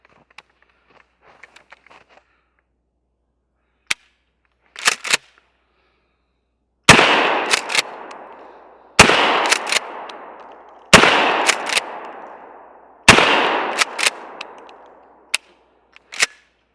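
A Mossberg 500 shotgun with a red dot sight fires at targets outdoors: several loud, sharp blasts a couple of seconds apart, each with a short echoing tail, plus smaller clicks and clacks from cycling the action between shots.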